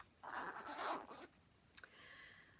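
A zipper on a small travel pouch gives one quick, quiet zip, then a short second pull with a faint click. It sounds close and isolated in a quiet room.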